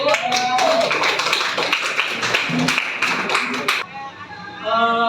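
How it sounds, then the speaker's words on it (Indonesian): A classroom of students gives a student a burst of close, rapid clapping lasting a few seconds. The applause then fades and a voice speaks. "boleh kasih aplaus untuk dia"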